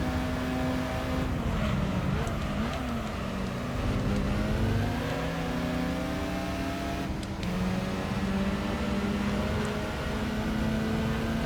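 Racing cars including a Nissan Skyline and a Mazda RX-7 in Gran Turismo 3 hold a loud, steady engine drone throughout, pitch rising and dipping with gear changes as the cars battle closely.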